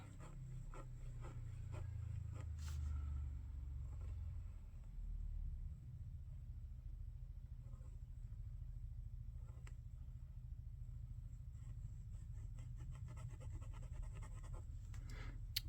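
An Esterbrook fountain pen nib scratches faintly across paper in short strokes while writing, with a low background rumble underneath and no talking.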